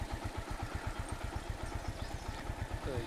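A motorcycle engine idles close by on a long adventure ride from Lahore to Azad Kashmir, a steady low, rapid pulsing throb with light mechanical clatter, running alone without talk.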